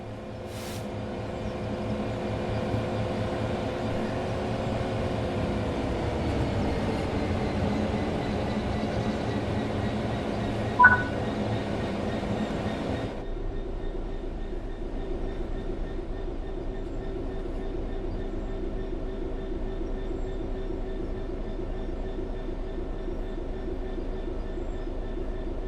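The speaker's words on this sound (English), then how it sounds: "The train will then coast on level ground, and the train will only slow down very gradually." A train in the Train Sim World 3 game coasts on level track with a steady rumbling drone and wheel noise. Halfway through, the sound drops abruptly to a quieter, thinner hum, and a single faint click is heard.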